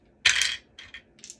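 Craps dice tossed onto a casino table: one sharp rattling impact and tumble, then a few lighter clicks as the dice settle and bounce, close and fairly loud with no voices.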